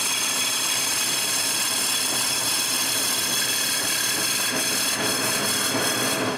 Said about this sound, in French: J'augmente donc la vitesse du tour et je perce le trou.